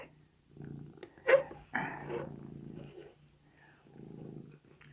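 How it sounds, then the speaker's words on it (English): Soft, low cat purring comes in short rumbling bursts, broken by a couple of brief louder noises in between. "You can probably hear her purring."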